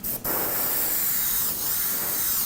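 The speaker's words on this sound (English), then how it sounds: "always spray your airbrush before you go on there" An airbrush sprays candy-colour yellow paint with a steady, close hiss that briefly cuts out near the start and then runs on evenly.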